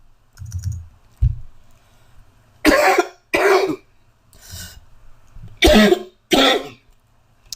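A presenter coughs during a live online webinar: about five sharp, close coughs in separate bursts with short silences between them, and no talking over them.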